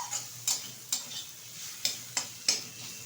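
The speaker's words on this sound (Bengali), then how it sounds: "খুব সুন্দরভাবে কিন্তু নেড়ে ছেড়ে ভেজে নিচ্ছি।" Mixed leafy greens being stirred and fried in a pan, a soft sizzle punctuated by six or so sharp spatula strokes at an uneven pace, close and fairly quiet, no talking.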